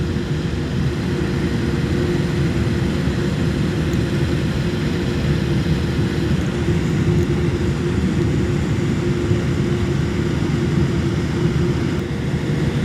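An airplane moves along an airport runway ahead of take-off, a loud, steady broadband engine roar and rumble that holds evenly throughout with no voices over it.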